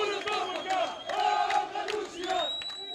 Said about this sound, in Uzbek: Prezident qarorini namoyishchilar olqishlar bilan kutib oldi.